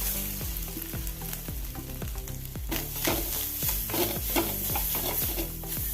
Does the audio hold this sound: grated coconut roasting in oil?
yes